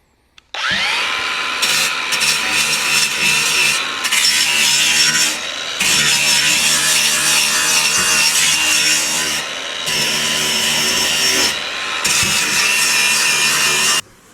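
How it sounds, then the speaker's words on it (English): A flap disc on a handheld grinder works over cracks in the hull of an old Bass Tracker boat. It gives a loud, close, abrasive rasping whine in several long passes broken by brief pauses, with no voices. "I got this little flap disc. I'm just gonna go over it and just take all these like big cracks and grind them down"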